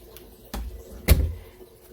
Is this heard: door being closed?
yes